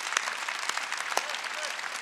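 A church congregation claps at a Sunday worship service, a soft steady patter of many hands with a few sharper claps standing out, while a preacher's voice continues over it.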